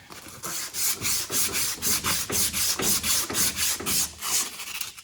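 Hand sanding with 320 grit sandpaper on a John Deere D105 mower part makes a rhythmic rasping rub, about a dozen even back-and-forth strokes, moderately quiet and close.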